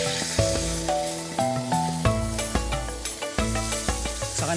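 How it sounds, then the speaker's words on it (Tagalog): Stock is poured into a hot pan and gives off a soft sizzle. Rhythmic background music plays over the frying. "So basically we have here our pan. Lagyan lang natin ng kaunting stock."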